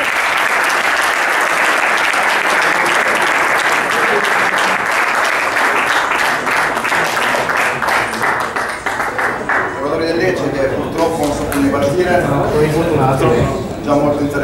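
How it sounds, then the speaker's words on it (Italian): A crowd at a footgolf open on a golf club course applauds the players with dense, sustained clapping, loud and close, while voices talk and call out over it in the later part. "Poi un applauso forte a Diniz,"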